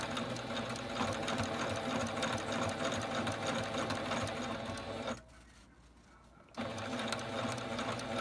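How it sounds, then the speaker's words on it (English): Sewing machine stitching steadily along a chalk line while lengthening a garment sleeve, a loud continuous mechanical whir that stops briefly for about a second and then resumes, with no talking. "so I'm simply going to sew down that chalk line"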